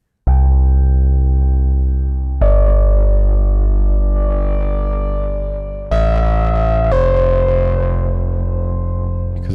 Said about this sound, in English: I quickly want to show you this bass patch here,